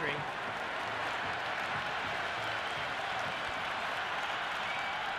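A stadium crowd at a Pakistan vs England T20 match in Cricket 26 roars steadily after a six, broad cheering and applause holding at an even level throughout.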